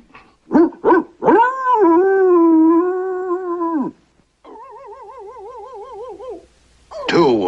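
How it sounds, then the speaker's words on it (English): Cartoon dogs call out in an animated film, with a few sharp barks followed by a long drawn-out howl and a wavering warbling cry, loud and close, with no talk over them. "Two woofs, one yip and a woof. It sounds like puppies, sir."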